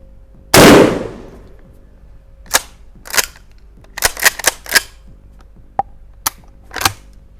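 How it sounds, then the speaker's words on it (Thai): A Winchester SXP Defender shotgun fires one loud, close blast, followed by a string of sharp mechanical clacks and clicks from handling the gun. "ปลดเซฟเรียบร้อย อ่ะลองยิงดูนะครับ เล็งไปที่ประมาณสักส่วนบน นะของตัวเป้านะครับ"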